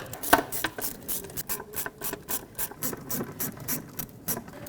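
Ratchet wrench clicking and metallic rubbing while bolts are turned in on the fuel injector area of a 2001 Ford Ranger 4.0L V6, quick repeated ratcheting bursts close up, no talk.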